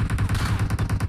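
Rapid automatic gunfire in PUBG, a steady burst of about a dozen evenly spaced shots at close range, played alone without talk.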